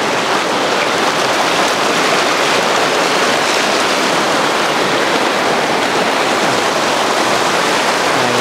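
Floodwater in a creek rushes down a deeply scoured stream bed near a bridge after a landslide. The roar is loud, dense and steady, close by, and runs throughout with no voices.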